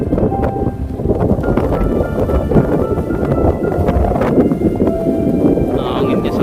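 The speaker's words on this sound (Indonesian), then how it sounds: "Nah, anginnya sangat kencang, masya Allah." Strong wind gusts roar steadily at the Masjidil Haram in Mecca during a heavy rainstorm, a dense continuous rush with buffeting on the microphone and faint voices in the background.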